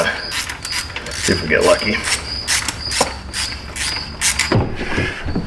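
Tightening a starter solenoid in a repair shop: a rapid series of short clicking ratchet strokes with small metallic creaks between them, close by, as someone speaks briefly.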